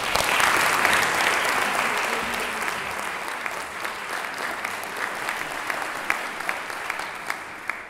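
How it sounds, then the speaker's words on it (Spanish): Loud, full applause from a concert audience before a Peruvian premiere of Mendelssohn's Lobgesang choral symphony, strongest at first and then settling into a thinner clapping with a few sharp individual claps. "Un aplauso,"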